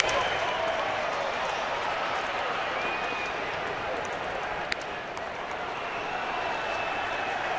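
A baseball stadium crowd of over twenty thousand, at a Minnesota at Seattle game in July 2013, applauds and cheers in a continuous broad roar that holds steady and loud for several seconds.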